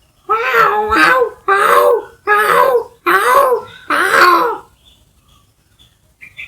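A human voice imitates cats fighting with five quick, strained yowling bursts in a rapid series, harsh and close, followed by near silence.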